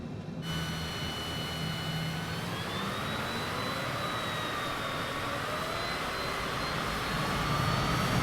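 Jet engine spooling up in Microsoft Flight Simulator, a steady broadband roar with whining tones that slowly rise in pitch and grow slightly louder over several seconds, heard alone.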